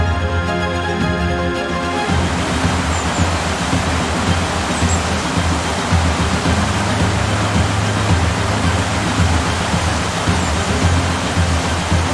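A small waterfall feeds Nauthúsagil, a narrow rocky slot canyon in Iceland. It makes a steady, dense rush of falling water that stays close and even throughout, with no voices over it.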